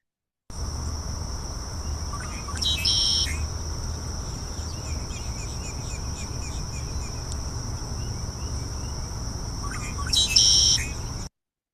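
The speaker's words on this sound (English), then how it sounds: "red-winged blackbirds, this is their call" Two bursts of a raspy, trilling red-winged blackbird call, several seconds apart, rise above a steady high insect drone and low outdoor ambience.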